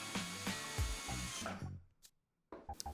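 A power drill driving a screw into a pre-drilled wooden board, a loud whirring buzz with the motor straining and slowing before cutting off, then brief silence and a few clicks and knocks.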